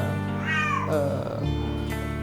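Several cats at a cat breeding house of many breeds meow loudly and close by, one long rising-falling cry followed by shorter overlapping mews over a steady background hum.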